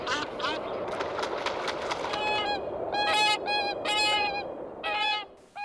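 Geese honk repeatedly in a loud, overlapping chorus as flocks gather before winter migration over the rocky Kvarken archipelago, the calls coming in bursts over a steady background wash.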